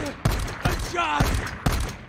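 Four sharp gunshots from the Days Gone game fire at a steady pace, loud and close, each with a booming low thump over a busy background of game sound.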